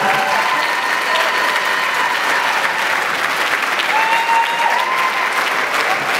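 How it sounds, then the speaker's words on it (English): A fight-night crowd claps loudly and continuously for two fighters after a bout, a steady roar of applause with scattered cheers and whistles rising above it. "Once again, a round of applause for our two fighters."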